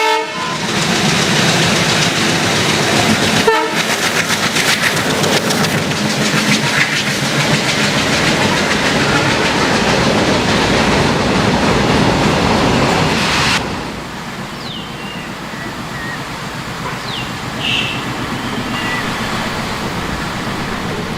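A train on India's Konkan Railway rumbles past loudly with a rhythmic clatter of wheels on rails, a brief horn-like tone early on, then fades to a quieter, more distant rolling sound for the final stretch.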